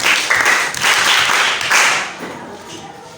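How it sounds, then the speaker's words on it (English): An audience at a youth history quiz competition in Ghana claps for a contestant, a burst of dense applause in waves that fades away within a few seconds. "Let's give him a clap."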